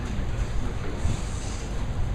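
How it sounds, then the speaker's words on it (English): Steady, blustery wind roars and buffets the microphone throughout, a constant low rumble with no pauses. "Pretty windy outside."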